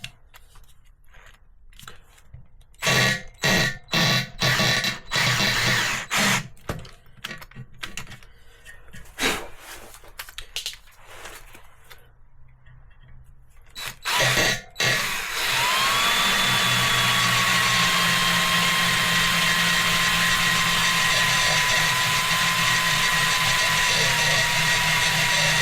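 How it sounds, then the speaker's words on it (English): A power drill slowly bores out an old damaged thread to prepare for a helicoil insert, first in short stop-start bursts, then running continuously with a steady whine for the second half. "the first thing to do is obviously take out the old thread, and we're going to do this slowly with the drill."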